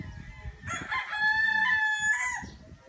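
A single rooster crows once, a long drawn-out call rising and falling over a few seconds, moderately close with faint background noise.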